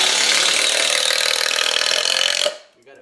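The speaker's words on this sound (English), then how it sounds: "screwing everything together" A power driver with a T30 star-drive bit sends screws into the plywood panels of a DIY truck box, a loud, steady whirring grind for about two and a half seconds that stops abruptly, leaving quiet.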